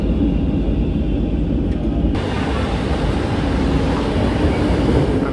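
A Barcelona metro train rumbles loudly at Catalunya station, a steady dense roar of wheels and motors that brightens partway through, with no voices.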